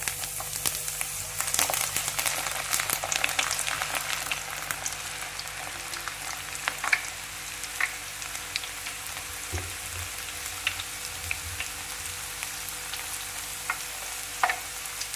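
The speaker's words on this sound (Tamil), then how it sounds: "நல்லா வந்து கொதிச்சிருக்கு எண்ணெய்" Onion pakoda frying in hot oil gives a continuous soft crackling sizzle, scattered with small pops and occasional stirring scrapes, fairly quiet and close.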